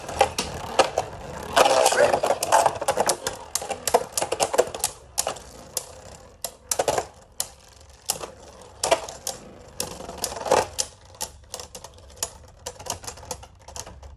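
Beyblades, Zwei Longinus Drake and Union Valkyrie Blitz, launched and battling in a stadium, giving rapid sharp clacks and scrapes in dense bursts that thin into sporadic collisions near the end.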